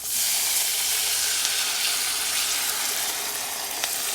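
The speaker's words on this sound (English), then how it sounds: "you're gonna deglaze the pan with this" A hot pan being deglazed with liquid, a sudden loud broadband sizzle and hiss that starts abruptly and stays steady and intense, close by.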